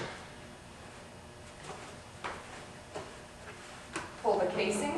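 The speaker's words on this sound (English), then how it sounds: "You will pull the door off." A furnace door is pulled off a home furnace before a pleated air cleaner filter change: a few soft metallic clicks and knocks spaced about a second apart, then a louder rattling scrape at the end.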